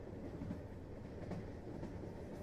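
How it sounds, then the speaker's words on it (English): A train rolls steadily along the rails with a continuous low rumble and faint rhythmic clatter from the carriage, heard from inside and with no voices over it. "I don't think we have very long before the train stops at the next station"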